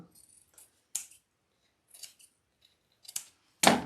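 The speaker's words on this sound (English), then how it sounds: "I'm going to do some trimming because this is kind of long" Scissors snip wreath material for a bee and beehive no-sew wreath, four or five short crisp cuts spaced apart, close and fairly quiet, the last one loudest.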